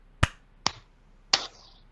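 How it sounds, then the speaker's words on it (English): Three sharp, close hand claps spaced unevenly in a quiet room, each snapping out and decaying quickly. "We need a sync clap."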